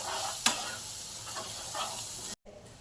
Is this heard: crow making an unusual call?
no